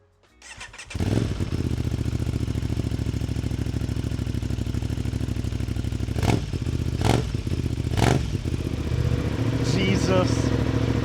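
An Aprilia Tuono 660 Factory motorcycle fitted with an SC Project exhaust starts up and idles with a loud, close, raspy burble, and a few sharp blips of throttle cut through the steady rumble.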